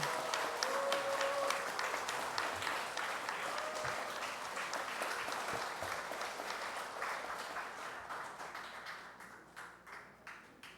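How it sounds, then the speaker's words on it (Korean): Steady applause from an audience at a Won Buddhist temple lecture, a dense patter of many hands clapping that slowly thins and fades toward the end. "박수로 맞이해 주시기 바랍니다"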